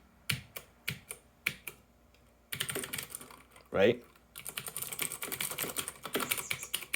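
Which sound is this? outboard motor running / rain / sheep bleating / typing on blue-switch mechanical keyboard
typing on blue-switch mechanical keyboard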